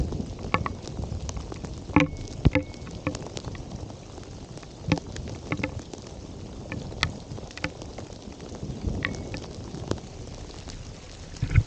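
Rain pattering steadily on a surface around a sheltered spot under a dark sky, with scattered louder drops and knocks and a low rumble beneath, building in intensity with no talk.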